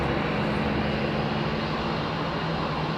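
A Boeing Dreamliner at Heathrow Airport gives off a steady, loud broadband engine roar that holds evenly for a few seconds without any talk.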